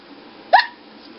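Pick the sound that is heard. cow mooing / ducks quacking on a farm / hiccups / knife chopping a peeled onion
hiccups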